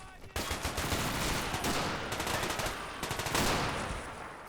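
Sustained gunfire in an underground battle in a video game running the RobZ Realism Mod, with dense, overlapping bursts of automatic fire coming from several directions at once, loud and continuous for several seconds.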